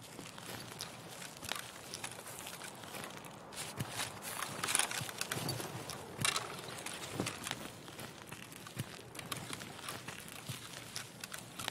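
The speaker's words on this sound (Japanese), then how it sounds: "足音しませんか？ 聞こえるな。" Soft footsteps in the Escape from Tarkov video game, a series of quiet, irregular steps on a forest map heard faintly against low ambient background, with no one talking.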